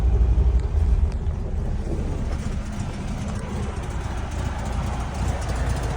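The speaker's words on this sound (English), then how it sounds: "It starts right up. It's got the dual carbs 1600 engine." A 1979 VW Brasilia with a dual-carburetor 1600 engine idles after a cold start, a steady low rumble with slightly louder, rougher pulsing at first, then settling evenly, with no talk.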